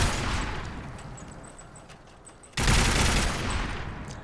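A .50 caliber Peppermill crank gun in Fallout 4 fires a rapid, steady fusillade of heavy shots that trails off, then a sudden loud burst of fire resumes close and dense.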